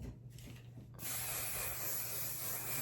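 Hairspray hissing from a can onto long, clipped-up hair, a short quiet pause followed by one sustained, close, bright spray that continues to the end.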